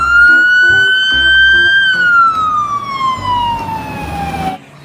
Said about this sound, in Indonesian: ini mobil pemadam kebakaran